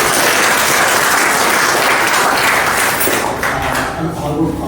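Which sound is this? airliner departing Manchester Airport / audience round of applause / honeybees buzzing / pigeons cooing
audience round of applause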